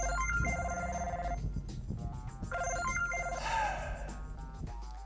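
A cell phone ringtone chimes inside a car, two bursts of bright repeating melodic tones separated by a short pause, loud and close over low engine rumble, with a brief voice near the end.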